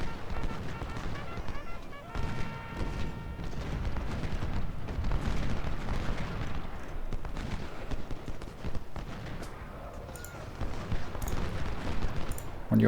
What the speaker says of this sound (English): Let's try keep these cannons running.